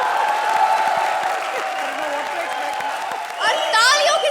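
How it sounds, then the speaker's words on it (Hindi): Studio audience of a Hindi comedy show applauding and cheering, dense continuous clapping close and loud, with an announcer's voice over it and whoops rising near the end. "a very big round of applause"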